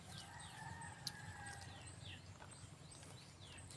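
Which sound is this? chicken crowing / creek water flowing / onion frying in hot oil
chicken crowing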